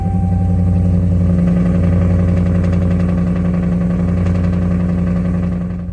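A 4th-gen 5.7 Hemi Ram pickup with long tube headers idles loudly up close, a deep, steady, slightly lopey rumble throughout with no one speaking.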